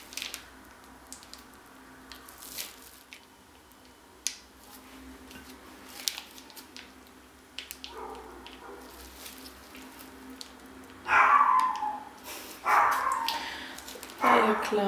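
A dog in a home kitchen barks in a few short bursts near the end, after quieter stretches of clicks and scattered household noises.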